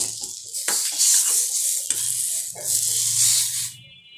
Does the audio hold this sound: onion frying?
yes